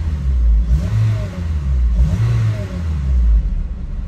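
A K20A2 engine in an Acura RSX Type S with leaking fuel injectors runs near idle, a close, loud, low rumble that swells and eases in a couple of gentle surges.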